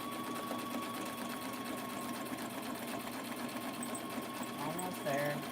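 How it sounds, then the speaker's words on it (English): A sewing machine stitches junk mail onto a junk journal cover, its steady mechanical whirr running continuously and close at hand, with a brief change in pitch near the end. "I love sewing on my journals."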